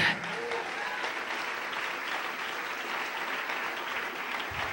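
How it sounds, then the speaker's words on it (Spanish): A church congregation applauds steadily during a sermon, the clapping even and moderately loud with some faint voices underneath. "Denle un aplauso al Rey."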